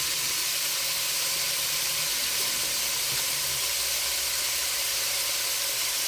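Green chili cooking in a hot pan gives a steady, loud, even sizzle and hiss that carries on without a break, with no voices over it.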